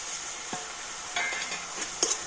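Toasted sesame seeds are stirred into a sticky filling in a pan, giving faint scrapes and a few light clinks against the pan over a low sizzle, quiet and close with no talking.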